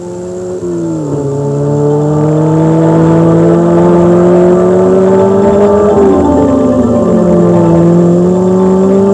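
A Porsche 944S engine revs loudly and steadily as it accelerates through the gears, with a strong tonal drone that shifts pitch on each gear change, heard up close in a 1987 television commercial without talking.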